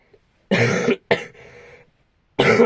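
Three coughs: two harsh bursts close together, then a pause and a third, loud and close with no talking.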